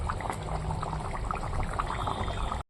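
A pan of paneer curry with potato and cauliflower bubbles on the stove in a steady, close simmer, with no voices, until the sound cuts off abruptly at the end.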